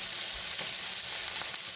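Pork chops searing in a hot pan make a dense, continuous sizzle with a few louder spits, close and loud, with no one speaking.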